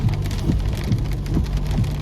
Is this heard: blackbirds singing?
no